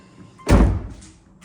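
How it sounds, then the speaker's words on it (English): A car door on an older Subaru XT swings shut with a single close, heavy thunk followed by a short fading rattle, with no talking. "Let me shut the door."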